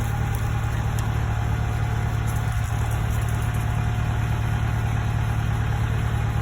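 Booster pump feeder engine on a pressure washer rig, running at a steady idle with a constant low rumble and hum, loud and unchanging throughout.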